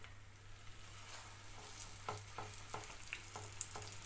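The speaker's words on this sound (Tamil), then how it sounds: "இப்போ ஒரு பேனில் எண்ணெய் ஹீட் பண்ணிக்கோங்க. இப்போ நம்ம ரெடி பண்ணி வச்சுருக்க உருளைக்கிழங்கு இதில் சேர்த்துடலாம்." Potato pieces frying in hot oil in a pan, a steady close sizzle with a few sharp crackling spurts as the pieces settle, no voices.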